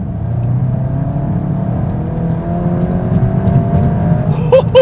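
A Volkswagen Golf GTI Clubsport engine accelerates steadily, its rising harmonic whine climbing over a loud, continuous low rumble, heard close up from inside the car.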